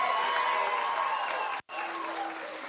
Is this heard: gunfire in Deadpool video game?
no